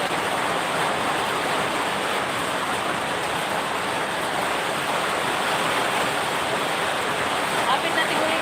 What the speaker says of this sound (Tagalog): Kasi ang lalakas ng ulan